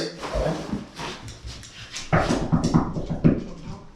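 A person imitating a dog barking during a dog training session, giving short yappy barks and whimpery yelps in bursts, close and fairly loud, with a few quieter gaps between.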